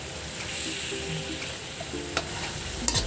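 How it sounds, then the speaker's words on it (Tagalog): Steady sizzling from bitter melon sautéed with chicken and egg in a pan, with faint scrapes and clinks of stirring near the end, close up and continuous, no voices. "So, haluin po natin ulit ng konti."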